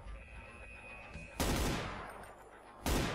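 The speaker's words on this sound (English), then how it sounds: "You don't have a gun, you see you already have a machine gun." Two sharp, loud bursts of gunfire from a machine gun in the Brutal Doom first-person shooter, each hitting hard and trailing off into a brief decay, with a quiet hum and a faint tone underneath.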